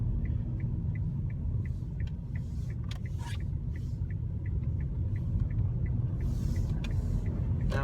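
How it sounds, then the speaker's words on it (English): A Kia Rio Eco diesel car drives slowly in a low gear, its engine giving a steady low rumble throughout, with light ticking and faint scraping noises over the top and no talking. "I'm keeping it in a low gear to start with, just giving it a little bit of a drive round."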